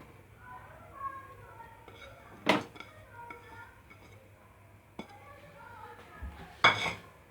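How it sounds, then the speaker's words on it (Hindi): Chopped onion goes into hot oil in a pan for a turnip bharta, followed by sharp metal clinks of a spoon against the pan and a faint low sizzle, while someone talks quietly over the cooking. "हमारा गरम हो गया, इसमें प्याज डालते हैं।"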